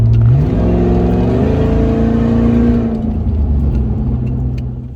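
A loud, raspy car engine running through a straight pipe where the catalytic converter was stolen revs up and holds a high drone, then settles to a lower rumbling idle, close by with no voices.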